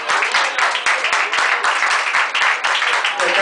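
A church congregation applauds in steady, dense clapping that fills the room, loud and continuous with a voice speaking briefly over it.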